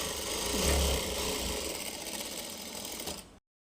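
A sewing machine stitches steadily after its screw has been tightened, a fast, even mechanical whir running close and continuous for about three seconds before stopping abruptly.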